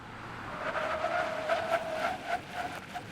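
A dual cab ute stops hard and its tyres squeal with a steady, strained tonal whine over the vehicle noise. The squeal rises and falls slightly for a few seconds, and no one speaks.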